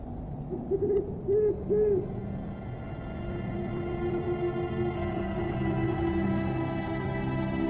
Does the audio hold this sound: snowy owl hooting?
yes